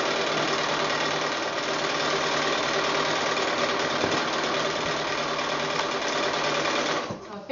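A sewing machine stitches quilt block rows together with a fast, steady mechanical whir and rattle, close and loud, stopping near the end.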